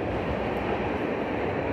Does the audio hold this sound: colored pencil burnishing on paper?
no